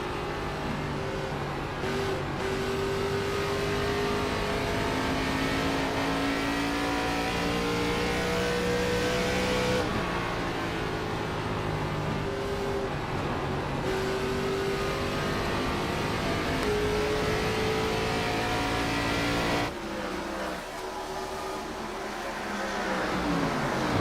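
Race cars circle Iowa in the video game iRacing, with loud, continuous engine drone that rises and falls in pitch as the cars accelerate, pass and rev. Brief dips in the roar mark cars going by.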